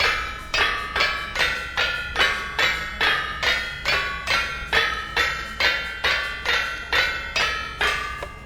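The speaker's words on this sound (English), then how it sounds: "But 4 hammers going with millwright sails." Four windmill-driven helve hammers with millwright sails pound metal in Vintage Story, a loud, even train of ringing blows about two per second with no voices.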